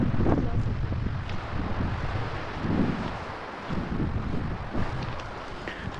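Strong wind gusts on Porquerolles island buffet the microphone in a steady, loud low rumble that swells and eases over several seconds, with faint voices underneath.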